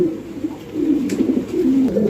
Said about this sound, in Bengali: এখানে একজন রেসার কবুতর আছে